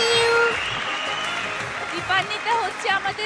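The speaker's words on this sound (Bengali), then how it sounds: "দাঁড়িয়ে হাততালি দেবো।" Audience applause at a children's televised dance competition show, clapping under a host's animated voice, with the talk growing more prominent toward the end.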